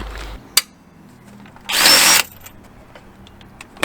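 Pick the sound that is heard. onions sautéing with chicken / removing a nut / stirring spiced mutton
removing a nut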